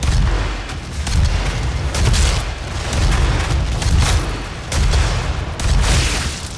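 Rocket blasts and weapon fire boom repeatedly in the DOOM open beta, a dense, loud run of heavy low-end explosions rolling one into the next with little pause.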